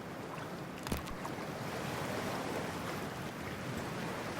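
A steady, wide wash of water and wind as a character enters freezing water in Cyberpunk 2077, with a brief splash near the start and an even, unbroken roar after it.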